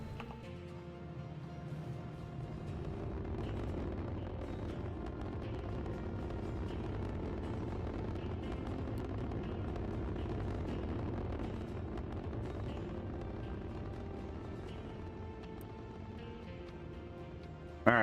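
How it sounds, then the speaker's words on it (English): A rocket lifts off in the factory-building game Captain of Industry, a sustained broad roaring rumble that holds steady for the whole stretch and fades slightly near the end, with no talk over it. "Rocket launch!"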